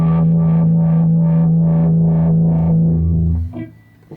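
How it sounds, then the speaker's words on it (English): An electric guitar played through a DigiTech Ventura Vibe pedal with slight distortion pulses in a steady, throbbing wobble over a sustained low note, close and loud, then cuts off abruptly near the end. "adding a slight distortion onto what you're doing with the tone."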